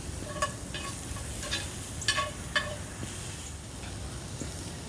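Onions and sausage sizzle in a pan over a charcoal grill with a steady crackling hiss, punctuated by a few light clicks of a utensil against the pan.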